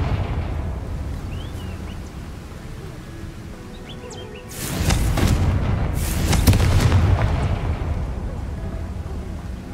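Hogwarts Legacy video game, Confringo explosive spell: after a quiet stretch with faint ambience, two loud booming blasts land in close succession midway, with a voice calling out around them.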